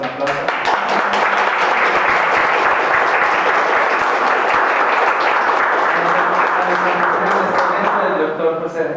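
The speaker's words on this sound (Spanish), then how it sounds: "A quien le damos un aplauso." Sustained applause from a conference audience welcoming a guest, a dense even roar of clapping lasting several seconds, with a voice heard faintly near the end.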